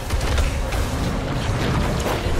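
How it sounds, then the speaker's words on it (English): A fire attack erupts in Diablo IV, a loud, dense roaring boom that sustains for a couple of seconds as a broad rumbling blast, with no voices over it. "Fire attack."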